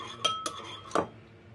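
A spoon stirs a sauce with pepper and sugar in a bowl for lemongrass pork belly, giving three distinct metallic clinks against the dish over a quiet background.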